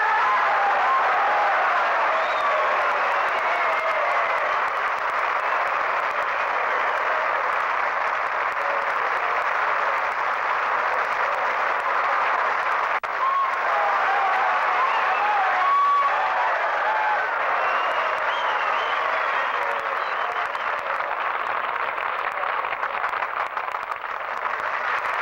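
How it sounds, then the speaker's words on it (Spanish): A large crowd gives a long, sustained ovation for Mexican boxing idols of the golden era. Dense, even applause holds steady throughout, with a faint murmur and rustle mixed underneath. "les tribute una ovación lleno de cariño, de respeto y de admiración"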